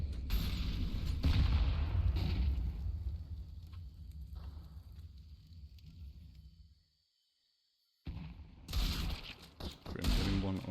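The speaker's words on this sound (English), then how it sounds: "Let's see if we can see some miracle shots coming in." Gunfire in a competitive Counter-Strike match on the Inferno map: dense, loud bursts of shots and impacts that cut out to near silence for about a second, then resume with sharp volleys.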